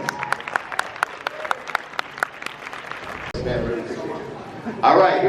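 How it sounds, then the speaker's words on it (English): An audience at the Texas Frightmare Weekend horror convention applauds Spencer: a few sparse, distinct claps at first, then a denser wash of clapping and crowd noise that swells louder near the end. "Let's give Spencer a big round of applause for joining us."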